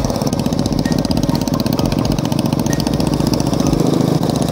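A loud modified motorcycle engine idles and revs with a rough, throaty rumble, steady and close throughout with no other sounds.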